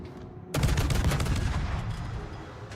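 Heavy warship guns booming in World of Warships naval combat, a sudden loud burst of overlapping cannon blasts that rumbles on for over two seconds with continuous battle noise behind it.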